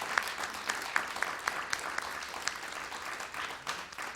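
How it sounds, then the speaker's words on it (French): A small audience at a talk on Europe, Turkey and migration claps for two readers, quiet scattered applause with a few distinct nearby claps, steady and fairly faint. "Moi, je vous propose d'applaudir nos lecteurs, François et Patricia"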